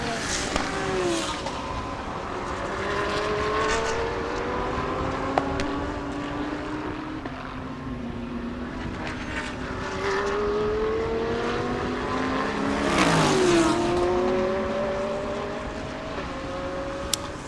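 Audi and Lexus race cars at a Thailand Super Series race, engines whining and rising in pitch as they pass along the track one after another, steady and fairly close throughout.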